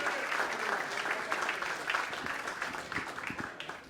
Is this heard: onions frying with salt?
no